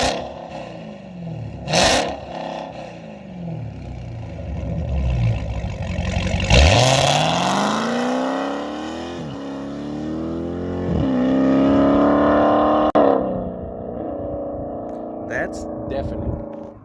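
Dodge Hellcat fitted with catless mid-pipes and a muffler delete, engine rumbling then revving hard in several loud rising and falling sweeps, raspy and close, with a voice talking briefly between pulls.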